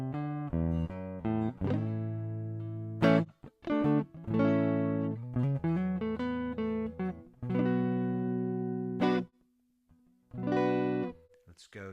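An instrument played through the Hologram Chroma Console's Sweeten character module, a preamp adding EQ, compression and gentle saturation, gives a series of clean sustained notes and short plucked phrases with gaps between them, at moderate volume and with no talk.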